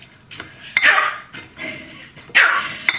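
A pet dog barks on command indoors, giving two or three sharp, close barks spaced about a second apart, with faint clinks of dishes in between.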